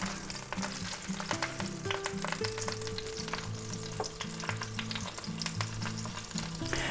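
Already cooked ham browns in a frying pan, a loud, continuous sizzle and crackle, with a faint tonal hum running beneath and no talking.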